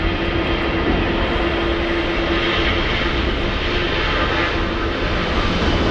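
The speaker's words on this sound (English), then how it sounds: "We have a 787 trying its best to steal the spotlight." A Boeing 787 jet airliner at LAX airport gives off a loud, steady engine roar that holds for the full stretch with no pauses and no voices.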